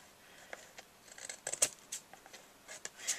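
Scissors snip along the overhanging edge of a card-making paper piece: a series of short, light cutting clicks, close and fairly quiet, with a sharper snip near the middle and another toward the end.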